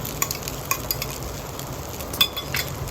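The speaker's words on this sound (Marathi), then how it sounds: "पूर्णपणे मिक्स करा." Sabudana khichdi mixed with peanut powder in a pan gives a soft, continuous scraping stir over a faint sizzle, with a few sharper scrapes standing out.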